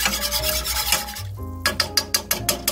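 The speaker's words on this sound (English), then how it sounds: "And I'll just stir it periodically so that so it won't clump." Spoon stirring simmering turkey gravy in a pan, a steady scraping rub with a gentle bubbling sizzle, then a brief lull followed by several evenly spaced louder scrapes close by.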